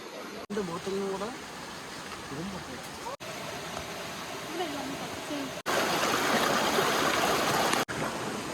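Stream water rushing below Vazhvanthol waterfall in a Kerala forest, a steady broad roar that grows louder later, with people talking over it early on.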